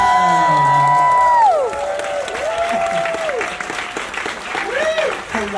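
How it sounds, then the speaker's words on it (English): An audience applauds and cheers for film star Max Harwood at a Q&A event, loud sustained clapping with whoops, while a strong tonal whistle-like sound sweeps up and down over the crowd. "let's give a big round of applause for the star of the film"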